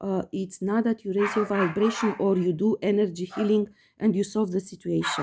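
Dogs bark and yip in the background while a person talks steadily in the foreground.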